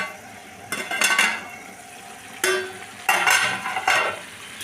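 Potato and egg curry with chichinga being stir-fried in a pan, several bursts of scraping and sizzling with clinks of a utensil against metal, separated by short quieter pauses.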